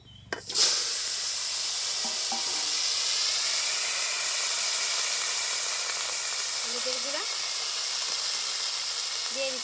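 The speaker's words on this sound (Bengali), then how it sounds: "মাছ ভাজার তেলে আমি সবজিগুলিকে হালকা বেজে নেব" Vegetables frying in oil left over from frying fish hiss and sizzle steadily after an opening clatter as they go into the pan, and a few faint voice-like sounds come through in the background.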